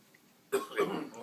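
A single short cough breaks a quiet moment, close to the mic, followed by a brief throaty rasp.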